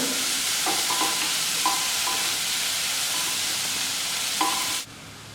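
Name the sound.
onions being sautéed and stirred in a pan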